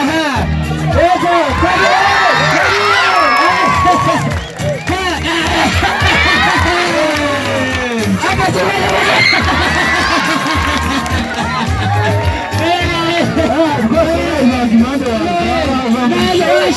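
A large crowd claps, cheers and whoops loudly at a close, lively gathering, with children shouting and excited voices babbling throughout; the roar stays dense and continuous with only a brief dip partway through.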